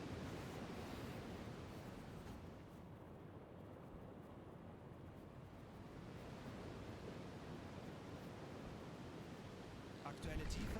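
Steady broadband wash of ocean surf and wind at sea in the UBOAT submarine game, a decent swell under 14-knot winds, continuous and fairly even with a slight rise near the end, no talk.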